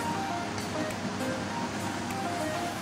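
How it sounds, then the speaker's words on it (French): Zucchini fritters frying in well-heated oil make a steady, dense sizzle and crackle that runs unbroken throughout, fairly close and even in level with no voices. "j'en lance d'autres. Ça va peut-être aller un peu plus vite du fait que mon huile soit bien chaude"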